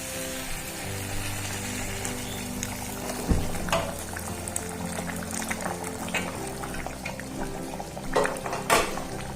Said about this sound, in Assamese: এতিয়া মই পানী দি দিছোঁ